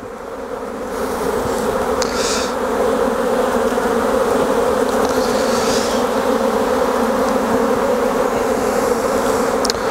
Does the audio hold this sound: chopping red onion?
no